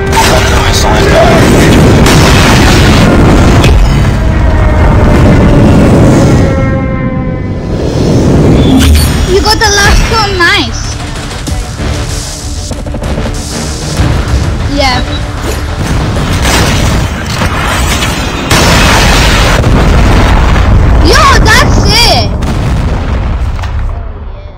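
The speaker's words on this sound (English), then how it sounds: "Airstrike is ready. I'm using my airstrike. Friendly airstrike incoming. Predator missile inbound." Airstrike and predator missile explosions in a Call of Duty match boom loudly in repeated heavy blasts and rumbling crashes, with voices talking over the barrage.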